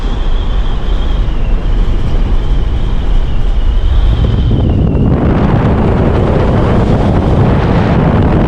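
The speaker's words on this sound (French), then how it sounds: "Attention au vent." Wind blasts across the microphone on a road trip in Namibia, producing a constant loud rumbling roar that grows heavier and harsher about halfway through.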